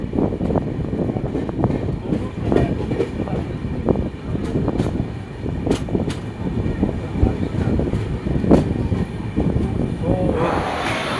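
Onboard the Howrah Digha Tamralipta Express, a steady, loud rail rumble fills the carriage, broken by repeated sharp clacks from the wheels in an uneven rhythm.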